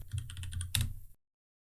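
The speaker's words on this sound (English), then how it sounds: "So for this one, I'm going to type in book." A computer keyboard clicks out a short rapid burst of keystrokes, close and crisp, before stopping into silence.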